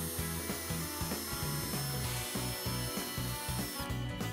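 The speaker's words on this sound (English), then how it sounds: "To drill the holes, begin with a 1/8 inch bit and set the drill to reverse." A power drill boring pilot holes through boat gel coat and fiberglass with a 1/8 inch bit, starting in reverse; a steady grinding whine with repeated rhythmic low pulses, close and continuous without speech.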